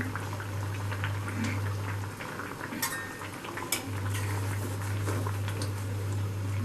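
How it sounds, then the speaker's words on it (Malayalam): A pot of Kerala-style Kottayam fish mappas gravy bubbles on the stove, a soft steady simmer with a low hum and a few faint utensil clinks, heard alone with no talking. "ഇപ്പോൾ ഗ്രേവി തിളച്ച് വരാൻ തുടങ്ങി."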